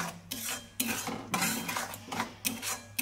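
Mixed vegetables with mustard are stirred and scraped around a pan with a utensil in a run of rasping strokes and light metallic knocks, close and fairly loud, with no talking.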